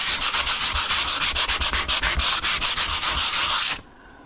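A malu bath stone is rubbed by hand in quick, regular back-and-forth sanding strokes, close and loud, about twenty rasping passes in under four seconds before it stops.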